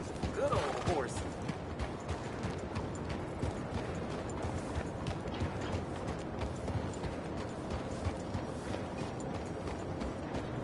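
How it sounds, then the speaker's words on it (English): Video game horse hooves clip-clop in a steady rhythm at low volume, a horse moving along continuously with a brief neigh-like cry near the start. "That is a good old horse."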